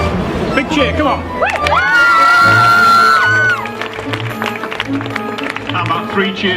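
A rugby league fun day crowd cheers and whoops in a broad, sustained swell, with shouts and a voice rising over the din before it settles into scattered chatter.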